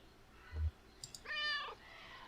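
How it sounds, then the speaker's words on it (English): A cat meows once in the video game Kentucky Route Zero, a clear, moderately loud harmonic meow heard alone after a couple of soft clicks. "Skeptical meow."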